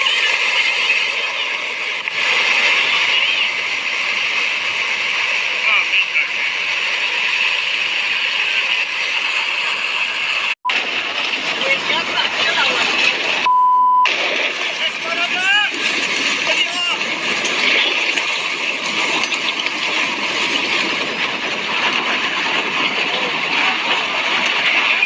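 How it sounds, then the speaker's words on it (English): Mudflow of water and rocks rushing down a slope in the Andes, a loud continuous roaring wash with a narrator talking over it. "In fact, it's a mud flow."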